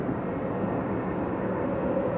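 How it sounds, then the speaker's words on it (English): A US Airways Airbus airliner passing at Atlanta Hartsfield airport, a steady, broad jet roar that holds evenly throughout without fading, with no voices over it. "This is probably an Airbus. Yeah, it's an Airbus."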